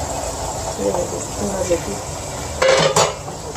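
A pot of arvi masala (taro root in spice paste) gets covered, with a short burst of metal lid clatter late in the clip over a steady kitchen background.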